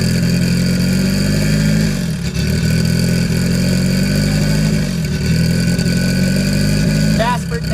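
A loud, close car engine pulls hard through the gears with double clutching at a speed event, revs dropping and rising again at each shift; its steady drone dominates the whole stretch.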